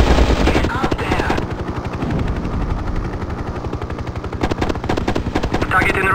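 Mi-24 Hind attack helicopter firing its guns in the 1998 game Hind: loud, continuous automatic gunfire rattles over the steady thump and whine of the rotor and engine, with rapid bursts throughout.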